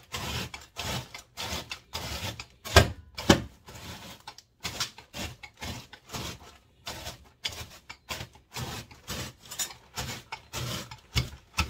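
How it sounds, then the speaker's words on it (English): Rough, rasping crunches repeat in a steady back-and-forth rhythm as a rolling pin crushes brittle freeze-dried broccoli and cheese, close up. "I'm just going to run the rolling pin over it just a little bit."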